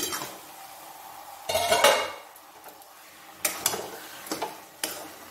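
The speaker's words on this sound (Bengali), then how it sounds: "বন্ধুরা আমি এবারে ঢাকাটা খুলছি" A metal lid comes off a pot of lau chingri, bottle gourd cooking with ginger, giving a couple of clanks and scrapes of cookware with a soft sizzle between, close and fairly loud, with no talking.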